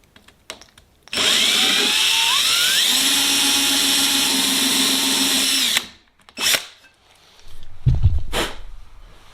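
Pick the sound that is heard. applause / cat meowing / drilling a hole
drilling a hole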